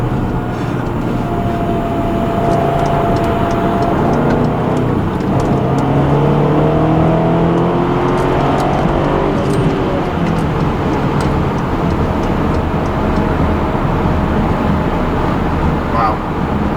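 A 2011 BMW X5 M in stock form accelerates hard on a highway on-ramp, its engine and road roar heard from inside the cabin as a loud, steady broadband rush with rising tone over the whole stretch.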